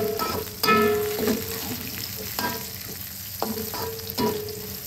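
Onions softening in a hot pan alongside already-golden shallots and garlic, frying with a steady sizzle while a utensil scrapes and stirs in repeated strokes, close and fairly loud with no talking.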